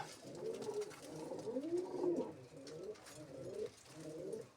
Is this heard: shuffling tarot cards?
no